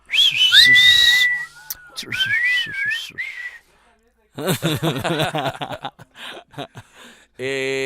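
A loud, piercing whistle with rising and falling pitch, followed by chuckling and snickering laughter, then another sharp whistle at the end.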